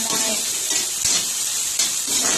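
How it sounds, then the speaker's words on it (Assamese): Sliced bitter gourd sizzling in hot oil with turmeric and salt, a bright continuous hiss, stirred with occasional scraping clinks, close and steady, with no talking. "এইদৰে তেলত ফ্ৰাই কৰি ল'ম চিম্পলি।"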